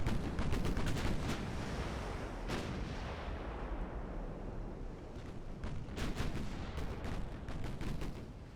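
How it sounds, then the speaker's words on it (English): Seven-inch naval guns fire in a video game, heavy booming salvos that come in rapid clusters at the start and again near the end over a continuous low rumble of battle. "And all of the 7-inch guns."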